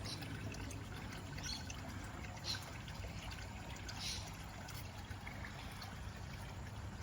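Water trickles and pours steadily into a rope bucket pond, a continuous soft stream with a sponge filter running, faint and even throughout with no talk.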